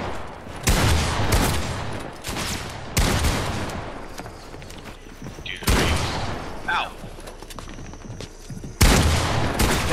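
Heavy gunfire in Fortnite comes as repeated loud, close bursts of shots spaced a couple of seconds apart over roughly ten seconds.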